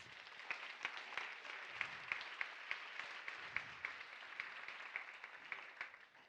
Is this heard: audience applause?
yes